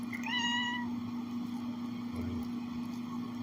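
A cat meows once, a short rising cry near the start, close by over a steady low electric hum from a guitar setup.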